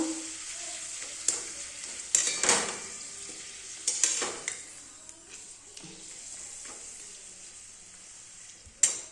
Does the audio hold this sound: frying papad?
yes